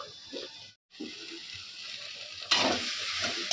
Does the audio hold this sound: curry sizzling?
yes